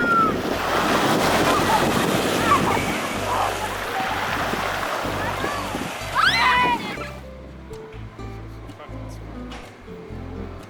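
Ocean surf rolls and breaks at the narrow head of the bay at Hanavave in the Marquesas Islands, a broad, steady wash with wind buffeting the microphone and a few faint calls, dropping to quieter background after about seven seconds.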